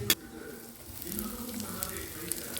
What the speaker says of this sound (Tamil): கருவேப்பிலை போட்டு யூஸ்வலாக இது நம்ம தாளிப்பு தான்.